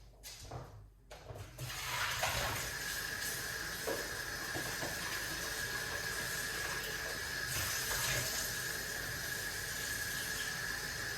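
Steady rushing and hissing of water from a running kitchen tap while dirty beetroots are rinsed, with a faint tonal whine and occasional knocks running through the continuous flow.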